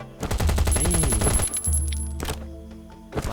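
Gunfire in the mobile survival shooter Last Island of Survival: a dense stretch of shots layered with other game effects, loud and close for about two seconds before it thins out, with one more sharp burst near the end.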